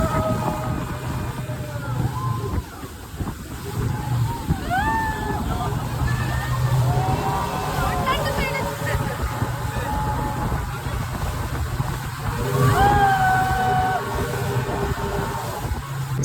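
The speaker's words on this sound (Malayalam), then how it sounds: "അപ്പോ ബോട്ടിന്റെ സ്പീഡ് കൂടിയിട്ടുണ്ട്" A speedboat runs fast across open water at night, a steady engine drone under continuous sloshing and rushing water, with people talking and some singing over it throughout.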